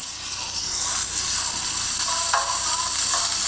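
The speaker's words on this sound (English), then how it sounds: "you want to make sure to constantly stir" Sauce with red pepper in a pan sizzles steadily while a utensil stirs it, a few light scrapes and clicks standing out near the end; close, continuous, no talking.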